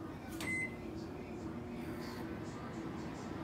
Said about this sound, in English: You just added more time to the damn microwave.